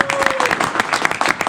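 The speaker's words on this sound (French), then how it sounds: "On peut applaudir très fort, Monsieur Vincent de Ruy." Audience applause at a public presentation, brisk and uneven hand claps filling a short stretch, with a brief tonal sound early on.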